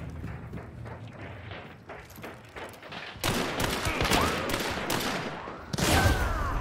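A messy video game gunfight, with scattered shots early on followed by louder, denser volleys of gunfire that intensify toward the end.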